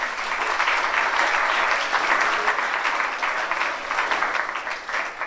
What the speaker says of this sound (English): So kids, again, give your parents and leaders a round of applause.